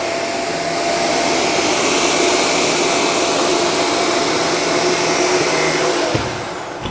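A Shark lift-away vacuum cleaner runs at a loud, steady roar as it is pushed forward and back across carpet, then cuts off abruptly near the end with a short clunk.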